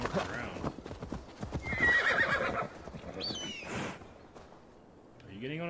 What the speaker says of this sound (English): I just need to get on the horse and